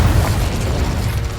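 In Hogwarts Legacy, a Confringo spell bursts in a loud, dense fiery blast that rumbles heavily and fills the whole moment without any break.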